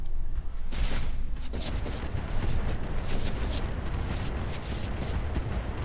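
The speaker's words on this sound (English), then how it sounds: "Let's use the incendiary on him." An incendiary weapon fires at a mech in the BattleTech mod Roguetech, producing a loud, sustained roar of blasts and rumbling fire that stays dense and steady throughout.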